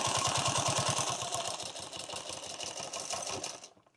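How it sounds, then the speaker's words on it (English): A sewing machine runs a second line of stitching on a tactical fanny pack. A rapid, even mechanical chatter is heard close up, slows a little near the end and stops abruptly. "I'm gonna go ahead and sew this so there's a second line here."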